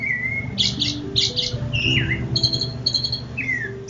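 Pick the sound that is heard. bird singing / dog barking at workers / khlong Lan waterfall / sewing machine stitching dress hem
bird singing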